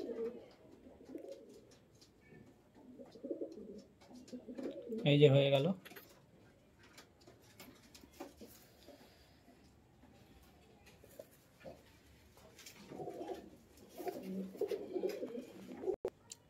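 Andhra pigeons coo in soft, repeated bursts during vaccination, with a louder flurry near the middle and more cooing toward the end, while a person speaks briefly.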